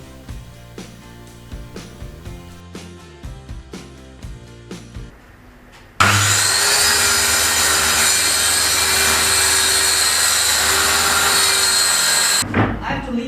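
A saw cuts through plywood while building a work table with a built-in table saw: one loud, steady run of about six seconds with a dull undertone, which stops abruptly. It follows a stretch of quieter workshop taps and knocks.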